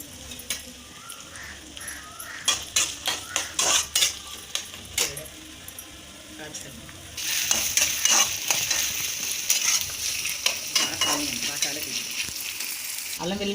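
Onions frying and stirred in a pan with an earlier sour-leaf and green-chilli mix for a gongura prawn curry, heard as repeated scraping stirs over a low sizzle, the sizzle swelling bright and steady partway through.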